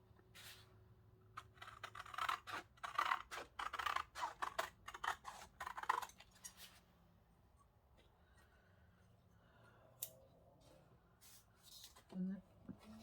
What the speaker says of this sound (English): trim that off with the scissors.